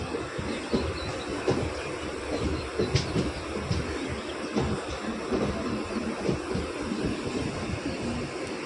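The Dhanbad–Ernakulam Express rolls into platform 1 at Ernakulam station with a steady rumble and faint rail clatter, heard from some distance, with a few birds audible.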